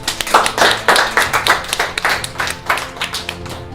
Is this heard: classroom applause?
yes